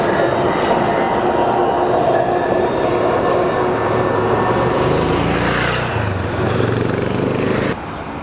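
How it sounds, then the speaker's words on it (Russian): Tram rumbling past in Athens near the Acropolis, a loud continuous rail roar with steady wheel and motor tones that shifts midway and drops off near the end. "Трамвай."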